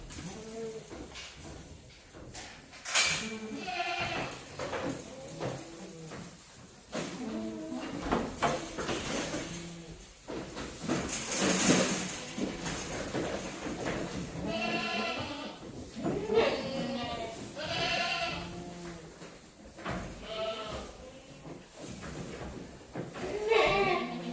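Goats bleating at feeding time in a farm pen, with repeated overlapping bleats near and far, some loud and close, plus occasional bird sounds in the background.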